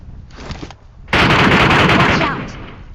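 Gunfire in the mobile shooter Metro Royale (PUBG Mobile), likely from an M762 rifle: a faint shot early on, then a loud, sustained automatic burst that rattles on for nearly two seconds and fades slightly at the end.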